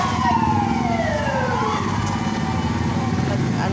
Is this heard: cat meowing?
no